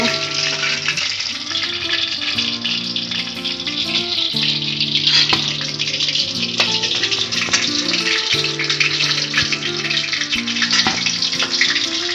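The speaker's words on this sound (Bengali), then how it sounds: "এগুলোকে উল্টে পাল্টে খুব ভালো করে ভেজে নিয়েছি" Chicken kurkure momos deep-frying in a pan of oil, giving a loud, dense, unbroken bubbling sizzle close to the pan that lasts the whole stretch, with faint tonal sounds underneath and no speech.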